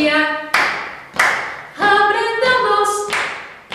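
Sharp hand claps land every half second or so over bright sung tones as a children's Hebrew class claps along to a song about the days of the week.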